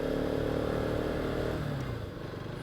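Motorcycle climbing a hairpin bend on the Dhimbam hills road in second gear, its engine droning loud and steady close by before the pitch drops and eases off near the end.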